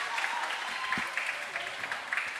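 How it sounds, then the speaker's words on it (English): Steady applause from football fans in a stadium during a Singapore Premier League game between Albirex Niigata and Hougang United, a continuous crackle of clapping heard on its own. "All the fans are applauding Hougang's efforts"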